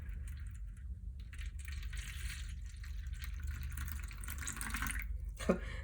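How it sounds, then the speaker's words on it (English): Tap water steadily running and splashing into a pie plate, a continuous close trickle and slosh with a small clink near the end. "I'll add my water."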